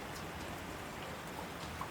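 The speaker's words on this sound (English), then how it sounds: "The rain tapping gently above." Steady rain patters gently on the top of a lighthouse during a storm, an even hiss of drops with no breaks and no voices.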